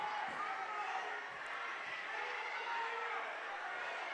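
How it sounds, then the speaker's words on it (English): Noisy crowd cheers and roars through a high school boys wrestling match in a gym, a steady broad wash of voices with scattered shouts, fairly quiet and distant overall. "Crowd making a lot of noise here."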